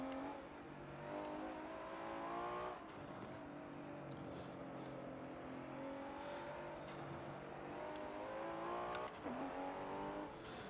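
Race car engine in Forza Motorsport 7 revving steadily at high speed, its pitch rising and falling through gear changes and corners, continuous and loud with no talking.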